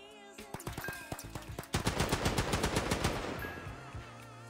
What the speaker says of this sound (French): j'aime bien cette mitraillette, elle, au moins elle est rapide